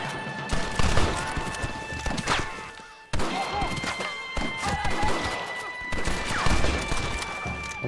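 Gunfire in the video game Red Dead Redemption during a hillside battle, repeated sharp shots and bursts mixed with horse hooves and game effects, loud and busy with a brief break midway.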